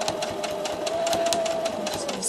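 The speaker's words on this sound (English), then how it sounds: "I'm just going to sew all the way around the edge." A sewing machine stitches slowly around the curved edge of a baby bib, giving a close, even run of rapid needle pulses over a faint motor whine.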